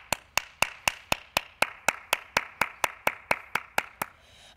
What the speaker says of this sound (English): Please join me in giving one more round of applause to all of our 2021 Tradition of Excellence honorees.